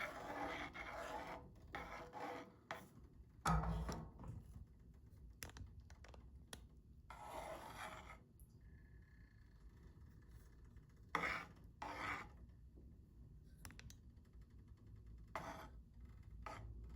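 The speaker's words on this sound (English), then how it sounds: "Give this a good stir." Chicken alfredo sauce with milk is stirred in a pan, giving faint, irregular scraping and rubbing sounds of a utensil against the pan with short clinks, alone and quiet.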